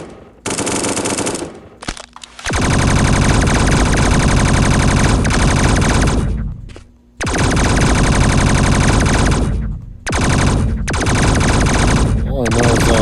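Machine gun fire in the video game CopNRobber: long, loud, sustained automatic bursts separated by short pauses, very close and dominant.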